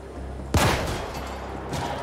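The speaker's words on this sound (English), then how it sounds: "You use the fire clip gun" A fire clip gun in the cyberpunk action RPG The Ascent fires a single loud sharp burst with a short ringing tail. A fainter second report follows about a second later.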